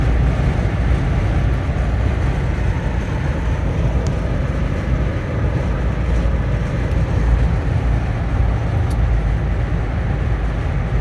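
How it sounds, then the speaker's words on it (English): Steady broadband wind rush and road roar fill the cabin of a 1997 Lexus LX450 (FZJ80) cruising at highway speed, constant and fairly loud with no break. "You can hear the wind noise gets a little bit more at these speeds"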